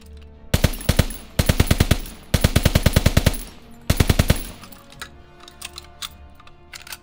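A Ribeyrolles submachine gun fires in Call of Duty WWII in four rapid bursts of sharp, evenly spaced shots, loud and close, each burst cutting off abruptly before a quieter tail of game sounds.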